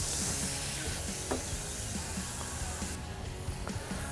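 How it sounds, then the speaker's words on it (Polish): Chicken pieces fry meat side down on a hot grill plate set up for indirect cooking, giving a steady, even sizzling hiss that runs without a break at moderate volume, with no talking. "Zaczynamy smażenie od strony mięsa"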